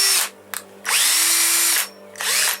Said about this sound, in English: just get the drill on its lowest setting with a good torque